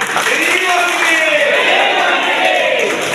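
An audience at a community committee meeting bursts into loud, dense clapping and cheering, a continuous close wash of hands and voices lasting a few seconds.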